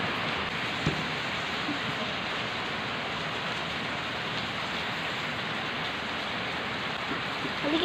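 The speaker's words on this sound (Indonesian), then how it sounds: "karena kita kejebak hujan" Steady, heavy rain falls continuously on surfaces while travelling toward Banda Aceh, making a dense hiss with an occasional faint knock.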